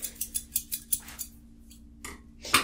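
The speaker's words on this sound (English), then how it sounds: "I need to switch to a more gold scissors. It just works better with me." Gold barber scissors snip in a quick run of about eight crisp metallic cuts, close and clear, followed by a pause and two more sharper snips near the end, with no talking.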